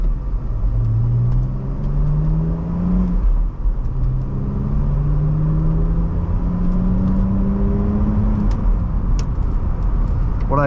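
Car engine revving through the gears while driving, a loud steady rumble with rising pitch sweeps as it accelerates, close and continuous with no talk.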